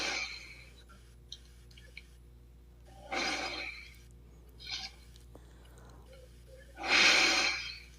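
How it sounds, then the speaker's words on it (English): A man breathes heavily in a few loud, rasping, snort-like bursts separated by quiet pauses, close to the microphone, faking the sound of a hospital patient. "he's like breathing heavy to make it seem like he's in the hospital"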